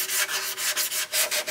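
Quick rhythmic back-and-forth strokes of sandpaper rubbing on a wooden archtop guitar body, about eight close, scratchy passes in a row.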